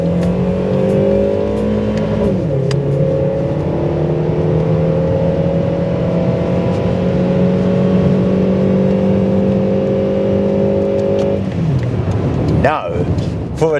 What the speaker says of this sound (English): Driving the Toyota Camry